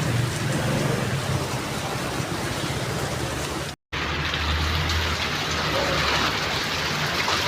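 Heavy rain pours down in a dense, even roar, with a deep rumble beneath it, broken by one very brief silent gap partway through.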